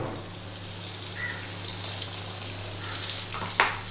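Butter and oil sizzle in a hot pan, a steady close crackling hiss with a faint hum underneath and a brief sharper clink near the end.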